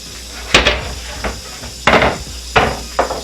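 Cutting board flipped over on a kitchen counter while preparing stuffed black bass and wedge salad, making four loud, close wooden knocks and clatters at uneven intervals.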